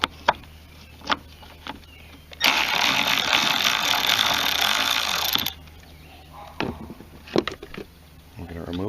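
A power tool whirs continuously for about three seconds while backing out small 10mm plastic screws on a Mercedes W163 ML320 wiper cowl, framed by scattered clicks, taps and handling noises close by.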